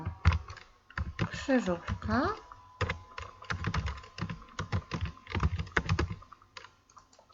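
Typing on a computer keyboard while naming a Microsoft Office Word document, a run of light key clicks under steady Polish speech that continues throughout.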